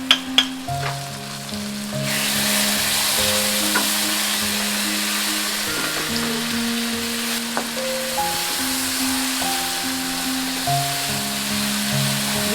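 Ginger-cumin paste sizzles steadily in hot oil in a pan with ground cumin, for a Bengali dhokar dalna, while a spoon scrapes and stirs through it; a few sharp clicks open the continuous close hiss.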